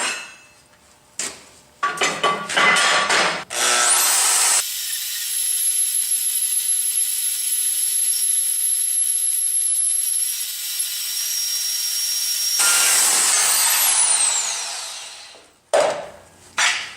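A Milwaukee portable bandsaw cuts through steel angle, starting with a few short bursts before a loud, steady high-pitched cutting whine holds for about eight seconds, then fades and ends in a couple of clanks. There is no talking.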